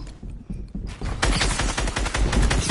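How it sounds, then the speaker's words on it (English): Video-game gunfire rattles in rapid bursts, a few isolated shots at first and then a dense, loud volley of repeated shots up close. "Dude, who's this shooting me?"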